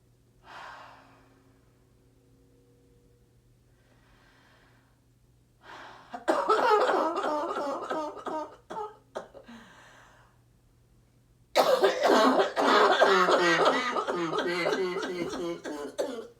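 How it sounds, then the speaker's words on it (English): A woman recovering from COVID-19 with right-lung pneumonia coughs in a couple of harsh, close bursts, with quieter breaths and gasps between them. "I think I still got a cough or two left in me"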